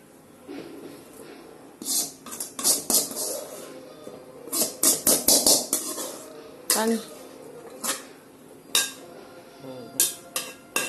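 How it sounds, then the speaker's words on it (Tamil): Sautéed drumstick leaves are scooped out of a pan into a separate vessel, producing a series of sharp metallic scrapes and clanks in uneven bursts, close by. "இப்போ வதங்கினதை தனியாக ஒரு பாத்திரத்தில் எடுத்து வச்சுக்கணும்."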